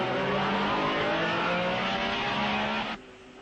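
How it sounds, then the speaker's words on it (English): 1961 Porsche Formula One race car at the Belgian Grand Prix at Spa, a loud sustained high engine drone holding steady then dropping off sharply near the end. "This is Joe Bonnier's Porsche, never far away from his teammate Dan Gurney"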